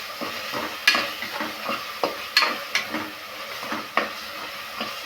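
Tomatoes cooking in a pan after turmeric, with soft sizzling and repeated stirring scrapes and clinks at a steady close range and no talking.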